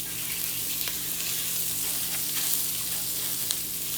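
Rice browning in a pan for Mexican red rice, giving a steady, dense frying sizzle with faint crackles and stir scrapes throughout, close and fairly quiet, with no talking.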